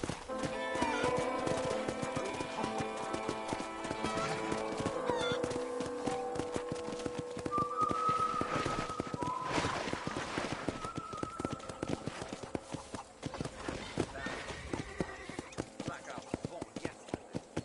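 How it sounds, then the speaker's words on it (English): Horse hooves clip-clopping at a steady walking rhythm in Red Dead Redemption while touring a ranch, close and continuous, with a short whinny, under someone talking throughout. "I picked out a fine horse for you. Let's make a tour of the ranch"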